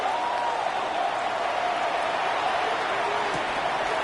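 A stadium crowd at a football game cheers after a defensive stop, a dense continuous roar of voices and applause at a steady level, with a commentator's voice blending into the noise.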